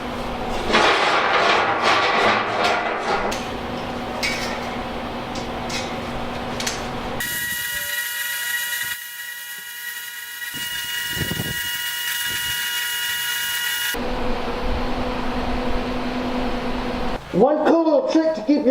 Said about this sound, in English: Hit that with a grinder.